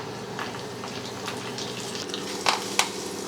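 Dried red chili and curry leaves fry in hot oil, a steady low crackle and sizzle with a couple of sharper pops near the end, heard close with no voices.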